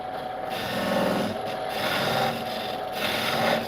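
Woodworking on sycamore wood: a steady rasping, rubbing scrape that swells and eases in slow strokes, close and continuous throughout with no talk.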